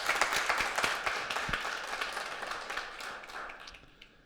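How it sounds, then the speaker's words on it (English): Audience applause for a performer at a book launch on indigenous South African instruments, a moderate crowd clapping with distinct individual claps that gradually thins and fades over a few seconds. "Let's give him another round of applause."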